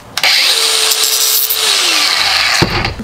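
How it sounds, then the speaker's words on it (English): Handheld power tool grinding down a metal part for an RC car, a loud close continuous high whine with a steady tone, cutting off abruptly near the end. "Got to grind a little down."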